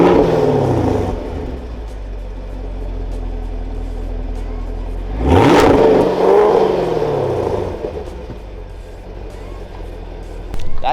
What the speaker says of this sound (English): record the exhaust note from a third-person perspective